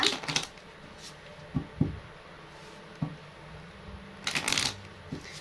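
Tarot cards being shuffled and picked, with quiet papery riffles and soft flicks and taps arriving in irregular bursts, close by against a hushed room.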